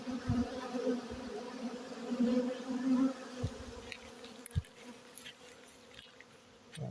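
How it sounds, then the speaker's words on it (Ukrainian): Large ginger honeybee drones flying around a hive at a queen-mating apiary, making a steady droning buzz of several insects that rises and falls, with faint clicks and knocks in the background. "От видно, крупніші рижі трутні. Ось літають."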